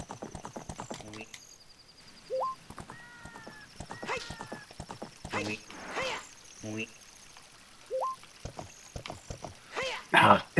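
A horse gallops in the video game Zelda: Ocarina of Time with a quick, steady clip-clop of hooves, mixed with short chirping game effects and jump sounds, all fairly quiet.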